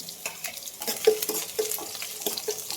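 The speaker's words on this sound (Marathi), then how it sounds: "आपण लसूण घालूया लसूण ठेचून घेतलंय मी" Crushed garlic dropped into a hot pan of oil sizzles, with spoon scrapes and stirring knocks against the pan at an uneven rhythm while the vegetable dish cooks, close and fairly loud, no voices.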